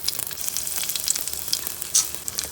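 Curry leaves hit hot oil in a pan, giving a close, crackling sizzle with sharp pops spread across a few seconds, with no voices.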